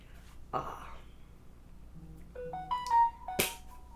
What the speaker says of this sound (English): that's my phone going to tell me that I'm live.